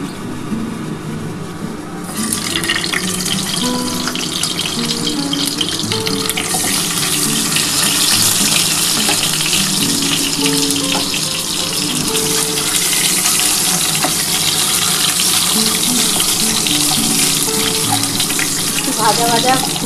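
An egg dropped into hot oil in a home kitchen sizzles loudly and steadily for almost the whole stretch, a dense crackling hiss that starts abruptly after a quieter moment and stays close, with a faint voice now and then.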